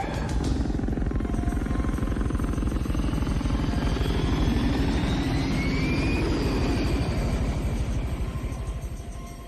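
A loud, steady airplane engine drones in flight throughout an action film scene, holding a constant roar with a faint rising whine, then easing slightly toward the end.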